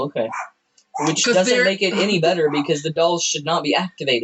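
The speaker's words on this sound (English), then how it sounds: "Sorry about the dog barking in the background." A dog barks in the background while a person talks steadily in the foreground; the barking sits mixed beneath the continuous speech.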